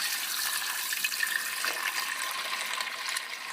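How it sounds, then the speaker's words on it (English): Water pours steadily into a pot on a warm stove while hickory nut brew is being made, giving a continuous close hiss and splash with no break and no voices. "it's time to add the water"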